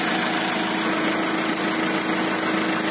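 A loud diesel engine in a JCB 3C backhoe runs steadily with a rough, knocking, pulsing idle and a hissing rush of escaping compression pressure throughout, close by, no voices.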